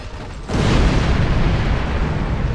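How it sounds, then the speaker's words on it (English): Detonating charges exploding in Star Trek Online, a sudden loud boom after a brief quiet lead-in, followed by a sustained roaring rumble that stays heavy to the end. "Detonating charges!"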